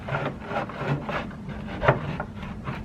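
A blade works through the back of an Evo2 rear fender for a Mercedes 190e in short, rhythmic rasping strokes, close and moderately loud, with one sharper knock partway through.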